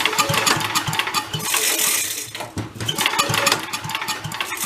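A vintage Mite-e-Lite generator engine is pull-started, giving a rough, sputtering run with repeated low putts and a metallic rattle, loud and close, briefly fading before surging again, with no talk over it.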